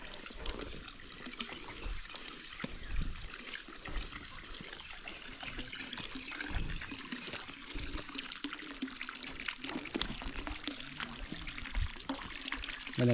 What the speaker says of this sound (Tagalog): Yung tubig niyan ay nanggagaling sa bukal.